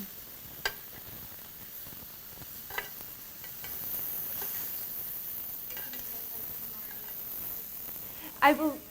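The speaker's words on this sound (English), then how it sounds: "You can see these are kind of indoor grill pans do kind of smoke a little bit" Food sizzles on an indoor grill pan with a steady, even hiss throughout, broken by a few sharp clicks and pops. A brief voice comes in near the end.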